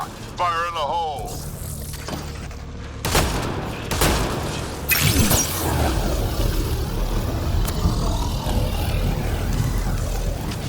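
Grenade explosion in the video game Mass Effect Andromeda, a sharp boom within continuous gunfire and combat noise, with voices speaking briefly at the start.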